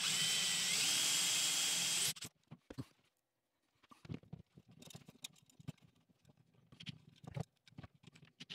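A small drill whirs steadily for about two seconds boring a tiny pilot hole for an over-sink kitchen light, then stops, followed by quiet scraping, tapping and handling noises nearby.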